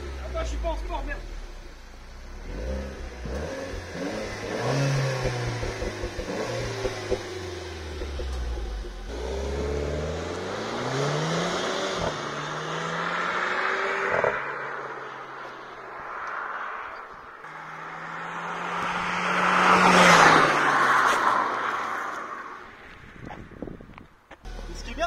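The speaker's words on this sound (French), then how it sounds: "D'origine, c'est qu'il y a déjà une petite pétarade" A new Renault Clio 4 RS with a stock exhaust revs up and down in rising and falling sweeps, ending in a burst of crackle, while people talk nearby.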